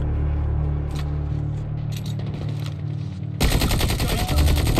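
Video game gunfire erupts in loud, close, rapid automatic bursts after a quieter rumbling stretch, dense and sustained to the end with no talking.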